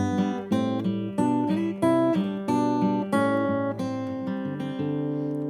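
Guitar fill from a song lesson, a sequence of about nine plucked notes and chord shapes in a steady rhythm, each attack ringing clearly and close, played alone without talking.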